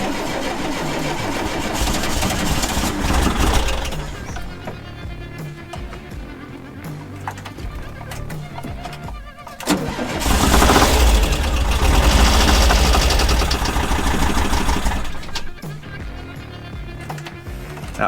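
A 1981 VW T25 Devon campervan engine cranks, catches and runs loud and close with a rough, uneven idle, dipping briefly before revving up again and running on steadily.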